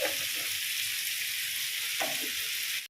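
A vegetable egg curry with a little chili powder fries in a pan, giving a loud, steady hiss broken by a few soft stirring scrapes, before the sound stops abruptly.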